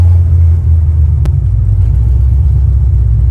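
A Ford Mustang Shelby GT500E Eleanor engine rumbles loud and close, a deep, steady, throbbing low growl with a brief sharp click partway through and no talking.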